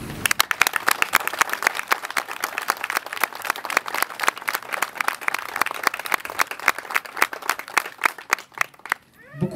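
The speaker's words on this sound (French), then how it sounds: "Vous méritez nos applaudissements." A crowd applauds after a speech at the patronal village festival of St Julien du Verdon, many hands clapping in a dense, lively stream that lasts several seconds before thinning out at the end.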